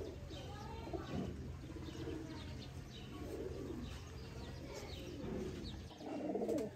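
Breeder pairs of Sialkoti pigeons coo in repeated low, throaty phrases, fairly faint and near, with a few chirps and soft background murmur throughout.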